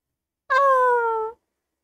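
A cat gives a single clear, drawn-out meow of just under a second, close and loud against a silent background.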